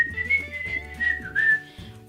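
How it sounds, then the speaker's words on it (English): A person whistles a short, wavering melody up close, the tone sliding and warbling unsteadily for about two seconds with no speech. "Number 36 is, can you whistle? I can, but not very well at all."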